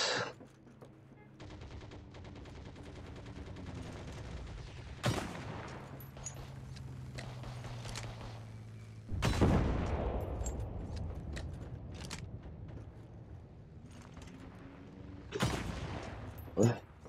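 PzB anti-tank rifle fire in the Heroes & Generals shooter, set at a night airfield: three or four sharp, heavy single shots spaced several seconds apart over low engine drone, with faint speech in between.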